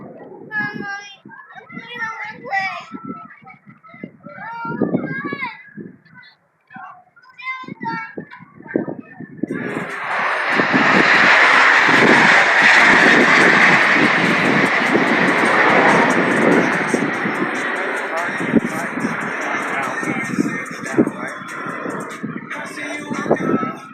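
Airshow aircraft in diamond formation roar overhead in a broad, loud wash that swells and holds for about fifteen seconds, following an announcer speaking over crowd chatter.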